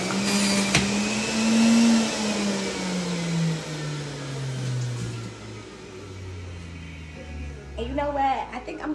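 A juicer presses single celery stalks for an orange tops beauty juice, its motor whirring steadily and then winding down in pitch over several seconds, ending in a short burst of clattering.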